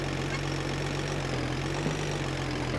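In a driving video game, a car engine hums in a steady, even drone with no voices.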